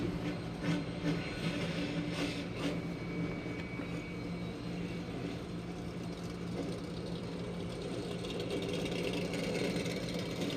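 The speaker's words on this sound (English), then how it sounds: "Drivers, start your engines!" A field of 36 race trucks fires up at a Nashville truck race, making a dense, continuous rumbling roar that holds steady and fairly loud throughout, with no talking.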